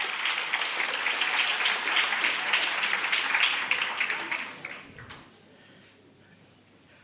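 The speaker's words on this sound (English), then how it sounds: "A round of applause." Panel discussion audience at a young summit giving sustained applause, a dense clapping wash that fades out over the last couple of seconds into quiet room tone.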